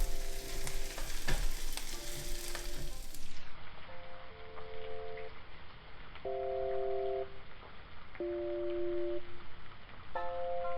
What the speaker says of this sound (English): And you're just gonna stir that in.